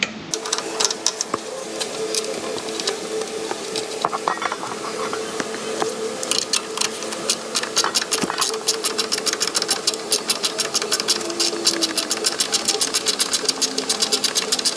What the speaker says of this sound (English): I'll run that nut all the way down, and we'll apply actual torquage with the longer wrench in a moment.